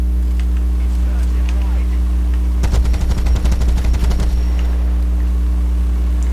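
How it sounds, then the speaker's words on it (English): Machine gun of the Sd.Kfz.251/21 self-propelled anti-aircraft halftrack in War Thunder, one rapid burst of close, loud, evenly spaced shots lasting about a second and a half over a constant engine drone. "You're not going to be able to take that out with this machine gun."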